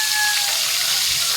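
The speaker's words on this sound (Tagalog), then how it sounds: "Nagpiprito na ako na isda." Steady, bright sizzling of fish frying in hot oil, continuous and close, with no talking.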